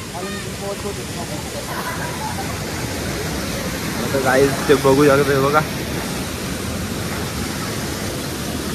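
Spring water wells up out of the ground beside a tiger cave, giving a steady rushing wash throughout, with a voice talking over it and a brief louder burst of nearby activity midway.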